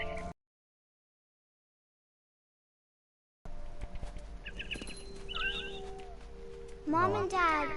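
Cat meowing in the video game What Remains of Edith Finch, a single drawn-out meow near the end, loud and close, after a gap of silence and faint bird chirps over a quiet ambient backdrop.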